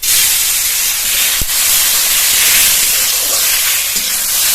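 Chopped onion, garlic and green chilli frying in a pan for raw tomato bharta, a loud, continuous close sizzle and hiss with a faint clink.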